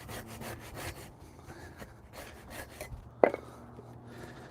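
A hand saw cuts through firewood near a van in the woods with steady back-and-forth rasping strokes, close and fairly loud, ending in a sharp knock near the end.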